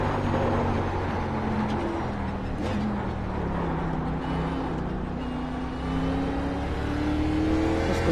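NASCAR race car in the iRacing video game at Sonoma, its engine droning steadily with pitch sweeping up and down through shifts, loud and constant throughout.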